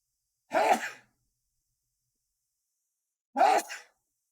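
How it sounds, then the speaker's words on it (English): Two separate sneeze-like bursts from one person with allergies, each a short sharp breathy explosion about a second long, spaced roughly three seconds apart with silence between and no talk. "I'm gonna sneeze."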